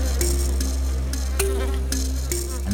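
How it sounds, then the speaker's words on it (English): A dense, continuous buzz of bees hums close by with no pauses, with a few brief louder swells as insects pass near. "that means dealing with a bee species unlike any other"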